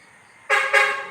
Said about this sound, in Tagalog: narinig niyo yung truck ng basura